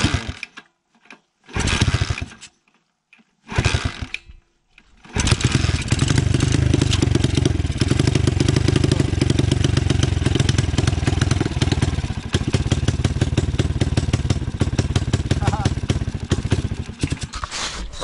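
A dirt bike engine with a holed exhaust pipe sputters through a few start attempts, then catches and runs loud and raspy at a steady rough idle, close by and dominating.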